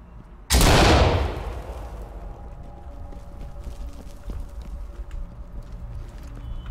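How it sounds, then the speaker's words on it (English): A flashbang grenade detonates in the tactical shooter Ready Or Not: one sudden, loud blast that rings out and fades over a second or two, followed by low rumbling room noise. "Toss a flashbang"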